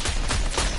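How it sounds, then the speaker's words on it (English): Gunfire in a video game, heard as a dense, continuous burst of loud blasts with no clear gaps between shots, close and dominant for under a second. "I hear gunshots right here."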